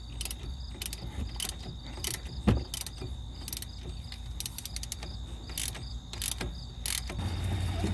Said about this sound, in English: I try to loosen this 13mm bolt